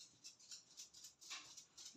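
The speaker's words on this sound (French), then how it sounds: "il y a mon chien qui arrive, vous devez l'entendre avec ses petites pattes" A small dog trots up across the floor indoors, its paws making faint, quick, repeated clicking patters in a steady run of soft taps at close range.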